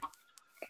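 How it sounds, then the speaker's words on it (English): Wild chicken in a video game: a few short, soft clucks spaced irregularly, quiet and close with near silence between them. "there's a wild chicken around here, and I'm trying to push it"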